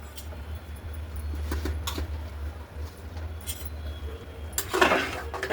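A spoon stirs peas and coriander into a pot of khichdi, making scattered metallic clinks and scrapes over a low steady hum, with a louder clatter near the end.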